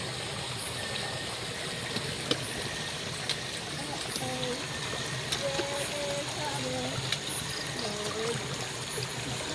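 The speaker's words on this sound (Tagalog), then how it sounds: "Sarap ng tunog ng tubig." Stream water flows and trickles steadily near a mountain campsite on Mt. Ayaas, a constant rushing wash with faint voices and small clicks scattered over it.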